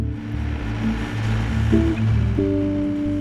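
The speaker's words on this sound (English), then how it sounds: "So we're just bringing the water up. We call this a raking flood." Water floods a cranberry marsh for a raking flood at harvest, a steady broadband wash under a low, droning machine-like hum with tonal lines that shift partway through.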